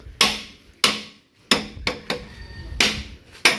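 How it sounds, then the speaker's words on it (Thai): Sharp metallic hammer blows drive out the cylinder sleeve of a walking tractor engine under repair, about seven loud close strikes at an uneven pace, each ringing briefly before fading, with no talking. "ตอกเสื้อสูบออก"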